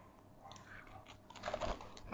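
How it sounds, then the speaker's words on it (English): A close bite into crunchy biscotti, then a louder crackling crunch as the piece breaks, with light background noise. "it's got that real crunch that you expect from a biscotti"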